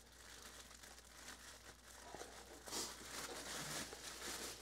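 Plastic Christmas wrapping around a boxed humidifier crinkles steadily as it is handled and pulled open, with a brighter rustling burst midway, close and fairly quiet throughout.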